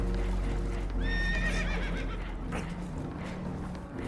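Spooked horses in the video game Red Dead Redemption 2 give a shrill, wavering whinny aboard a damaged boat that is taking on water, over a steady background rumble and faint hoof clatter.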